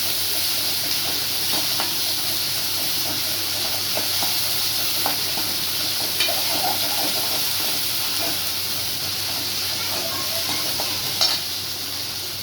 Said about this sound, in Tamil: இஞ்சி பூண்டு போட்டு வதக்கலாம்.